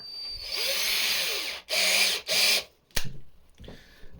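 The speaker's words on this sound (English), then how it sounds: "then you just drill out those holes there" A power drill with a 2mm bit whirs loudly in three bursts, spinning up and cutting holes for a spinner bait, then stopping, followed by a sharp clack and quieter mechanical handling.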